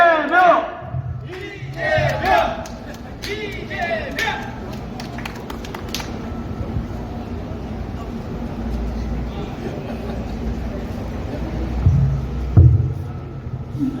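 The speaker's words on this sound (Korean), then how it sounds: "이재명이라고 연호를 해주시기 바랍니다" Outdoor election campaign rally crowd at Gumi Station, chanting the candidate name Lee Jae-myung in rhythmic repeated bursts early on, then settling into a continuous murmur with cheering and amplified background noise.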